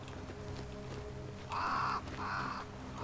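A crow in the video game Banishers: Ghosts of New Eden gives two harsh caws in quick succession, clear and fairly close, over a low ambient backdrop.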